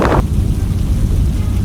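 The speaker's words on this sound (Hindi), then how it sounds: "जैसे भी बारिश गिरी रही है और मैं कम्प्लीटली भीग चुका हूँ" Heavy monsoon rain pours steadily at Amboli ghat, a dense, loud rumbling wash with close wind buffeting on the microphone and no voices.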